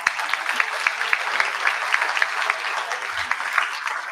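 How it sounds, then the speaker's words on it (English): An audience applauds an elderly grandmother at a real estate investors' meeting, with dense, steady clapping from a crowd throughout. "So can we give a round of applause to my grandma?"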